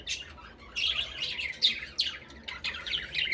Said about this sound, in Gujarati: આ સૌથી જૂનો, મારા સૌથી ફર્સ્ટ બજીસનો આ મેલ બહુ મસ્તન છે